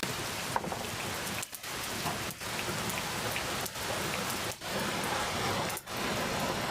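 Steady rain pours down in a dense, even hiss, with a few brief dips in intensity and no voices.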